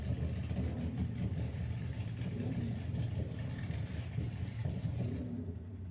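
A drag racing car at Santa Pod Raceway idles with a steady, loud mid-pitched rumble, then cuts out abruptly near the end, leaving near silence.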